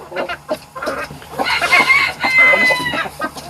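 Young chickens, four growing birds kept alongside two hens, cluck and squawk close by in a busy, overlapping run of short calls, with one higher crowing-like cry near the middle.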